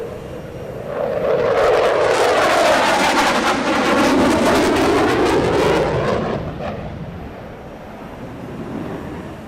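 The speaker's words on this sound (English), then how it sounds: "Here an impressive low-speed pass at just over 100 knots." An aircraft makes a low-speed display pass at just over 100 knots at the LIMA air show, a loud engine roar swelling as it approaches, with a sweeping pitch shift as it passes, then fading into wind and distant rumble.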